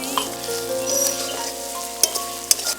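Chopped onion hitting hot oil in a pan for a Bengali pangas fish curry, a steady close sizzle with a few sharper crackles and pops near the end, no talking.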